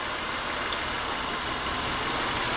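A car engine idles steadily with one coil pack unplugged during a power balance test, a continuous low mechanical hum and rumble at moderate, even level with no talking.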